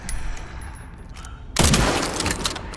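A sniper rifle shot from the video game Resident Evil Requiem, a sudden loud blast about halfway through followed by a dense crackling burst and rumble. Quieter game noise comes before it.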